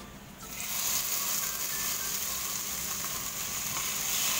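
Marinated pork sizzles steadily in a hot pan while being sautéed for adobong baboy, a close, continuous frying hiss with no voices.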